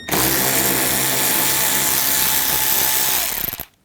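A power tool drives out screws from the inner fender well of a Volkswagen Jetta, a loud, steady high-pitched whine held for over three seconds before winding down abruptly.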